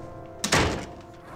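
A door thuds shut once, close by, as someone walks out of a house at night, followed by quiet room tone.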